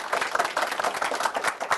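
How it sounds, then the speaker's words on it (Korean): A short burst of clapping from a seminar audience for the Angel Investors Association chairman, several hands clapping close and fairly loud in a quick, uneven rhythm, no voices. "오늘 너무나 좋은 말씀 해주신 이제 고용화 회장님께도 박수 부탁드리겠습니다."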